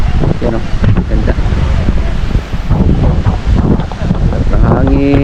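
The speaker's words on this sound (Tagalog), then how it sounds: "Ang hangin dito sa resort ng Burias Island dito sa Kiramuna." Strong wind buffets the microphone at a beach resort on Burias Island, a constant loud roar with gusts, mixed with faint surf and possible voices in the background.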